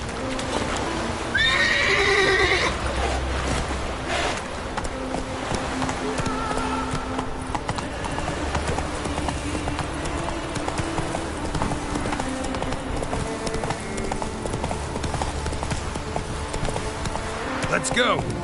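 Geralt's horse Roach gallops in The Witcher 3: Wild Hunt on PS5, an early loud whinny followed by a steady drum of hoofbeats, with someone speaking over it at times.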